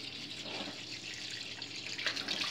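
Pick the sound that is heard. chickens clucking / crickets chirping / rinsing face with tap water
rinsing face with tap water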